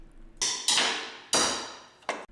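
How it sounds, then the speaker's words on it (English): A hammer strikes a 14mm wrench on the rear strut tower nut of a 4th Gen 4Runner, four sharp metallic blows at uneven intervals, each ringing out briefly and close by. "I used a hammer and a 14mm wrench."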